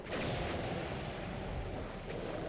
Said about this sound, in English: This time we'll shoot the rocket launcher.